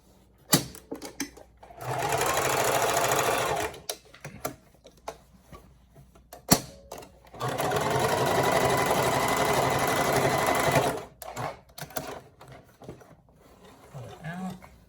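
A Singer Classic sewing machine stitches in two sustained runs, each a few seconds long, broken up by clicks and handling noise and some quiet talk between the bursts.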